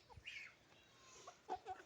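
Soft clucking and short chirpy calls from hens and a rooster, scattered and fairly quiet against a calm background.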